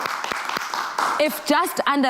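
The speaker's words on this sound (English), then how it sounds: "I need a round of applause for that." Studio audience applause on a live South African morning TV show, a steady wash of clapping that fades as a presenter starts talking over it.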